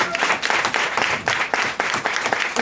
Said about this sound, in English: give them a round of applause for all that they did this morning